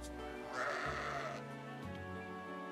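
A sheep in the video game Fire Emblem Engage gives a short, wavering bleat that rises and fades, heard faintly alone against quiet game background tones.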